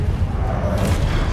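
A Confringo spell blast in Hogwarts Legacy: a dense, loud rumbling boom with a low roar and a faint whooshing hiss on top, lasting just over a second.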